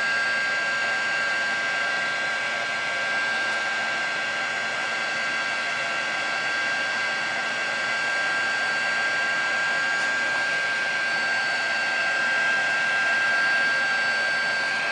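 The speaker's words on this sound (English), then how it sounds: "just place the heating tool a little closer and I'll start curling it up" A craft heat tool blows hot air over distress powder and paint on acetate, a steady close whooshing roar that holds at even loudness for the whole stretch with no talk.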